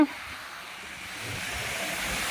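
Ocean surf washes onto the beach at Thati Chetla Palem in a soft, continuous hiss that swells slightly over a couple of seconds, fairly faint, with no talking.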